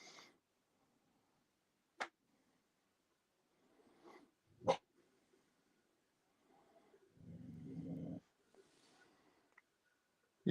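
A dog lets out a few sharp, isolated barks at irregular intervals in a quiet setting, with a brief low rumble in between.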